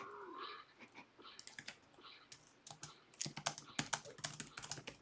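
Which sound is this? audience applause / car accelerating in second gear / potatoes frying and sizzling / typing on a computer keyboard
typing on a computer keyboard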